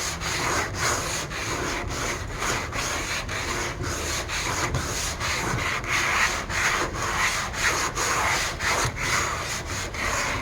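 A 1970 Chevelle hood being block sanded by hand with sandpaper, steady back-and-forth rasping strokes in an even rhythm, close and continuous with no talking.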